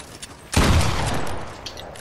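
A sudden burst of rapid gunfire from a weapon in the Fortnite video game on PS4, loud and close, cracking in at once and then trailing off into a lingering rumble.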